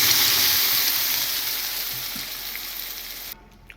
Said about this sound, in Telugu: తాలింపులో పప్పు పోసేద్దాం